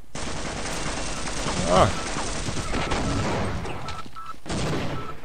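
Rapid bursts of automated turret gunfire in a Half-Life mod video game, fairly loud and sustained, with a brief spoken exclamation mixed in.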